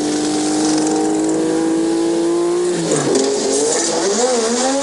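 A 1986 Formula 1 car pulls out of its pit box, its high-pitched engine screaming steadily, then dipping and rising again through gear changes, loud and close.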